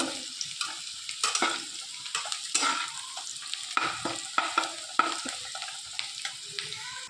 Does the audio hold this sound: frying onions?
yes